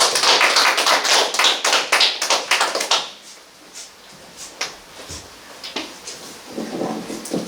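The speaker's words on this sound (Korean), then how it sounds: "박수로 맞이해주세요." Audience at a public debate forum in Korea claps to welcome the opening speaker; dense, loud clapping for about three seconds, then it thins to scattered faint claps and small noises.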